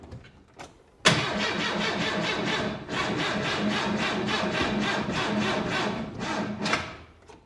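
A 1923 Ford Model T engine being cranked over without firing, a near, loud, rapid rhythmic chuffing that starts abruptly, drops out briefly, then carries on steadily for several seconds before stopping.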